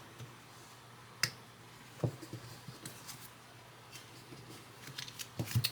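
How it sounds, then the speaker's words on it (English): A tarot card deck being shuffled by hand, giving soft, scattered riffles and snaps over about six seconds, quiet and close with no talking. "So shuffle your deck well"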